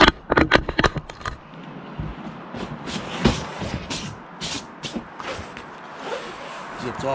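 A zipper on the fabric cover of a Hewescraft 200 Pro V boat is drawn open in a burst of quick rasping pulls, followed by scattered rustling of the cover while someone talks over it.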